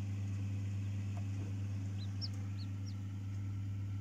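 A quail chick peeps while hatching from its egg. Four short, high, rising peeps come close together in the middle of the clip, over a steady low electrical hum.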